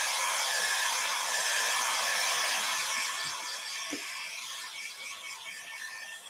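A handheld dryer blows steadily over freshly applied shimmer glaze, a close, loud, even whoosh that softens and wavers slightly partway through.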